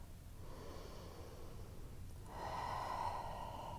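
Slow, deep breathing during a relaxed yoga forward bend with the head resting on the mat, soft airy inhale and exhale sounds close by, the second breath fuller and louder.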